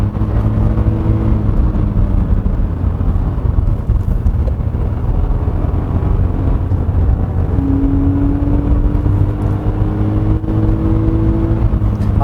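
A Hyundai Casper Van with a 1.0 gasoline engine drones steadily from inside the cabin on a winding road, its engine note climbing in pitch as it revs toward the redline during the latter half.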